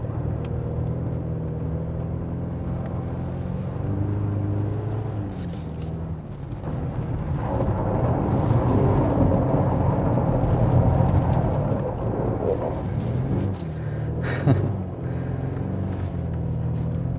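A 2023 Mercedes GLC 300 with stability control off drifts sideways across an ice surface, its engine giving a steady, loud rumbling drone that swells and revs higher midway through, with no one speaking.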